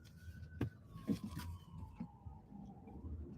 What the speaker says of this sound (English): We got a freaking ambulance.